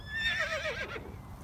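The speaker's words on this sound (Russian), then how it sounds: "Лошади!" A horse gives one clear, loud whinny that rises and then wavers downward over about a second, followed by quieter background.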